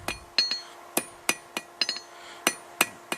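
A hammer striking hot steel while forging a fire poker: about ten sharp, ringing blows in an uneven rhythm, close and clear, with no talking.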